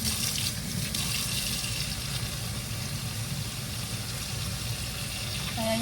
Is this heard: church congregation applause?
no